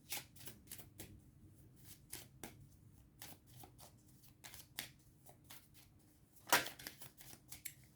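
A tarot deck is shuffled and drawn during a horoscope reading, with crisp close card flicks and riffles in an uneven rhythm and one sharp snap near the end.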